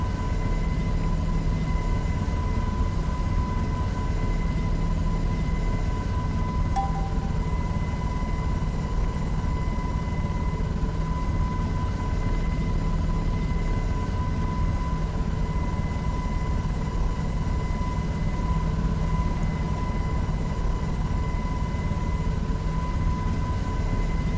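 Helicopter engine and rotor drone flying and banking through a fast, hot turn at a little over 200, heard as a steady loud mechanical roar with constant tones, alone without talk.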